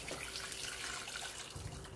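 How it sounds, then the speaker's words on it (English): Chicken broth for Korean chicken noodle soup (dak-kalguksu) pours steadily through a strainer, giving a continuous splashing, running-water rush at close range, with no talking. "remove the fat from the broth and strain"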